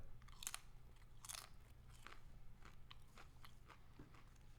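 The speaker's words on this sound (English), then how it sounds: "I didn't want you to hear me crunching." Close, quiet crunching of food being bitten and chewed, in a series of sharp crisp bites and softer chews spread irregularly across a few seconds.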